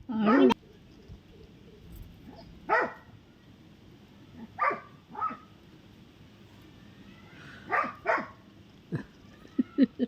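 A dog barks in short, scattered bursts, moderately close, around hand-feeding of rescued parrot chicks, with quiet gaps and faint chirps between.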